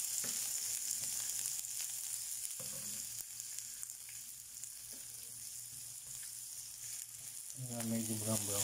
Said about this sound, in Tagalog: Kaya natin maluto yung sibuyas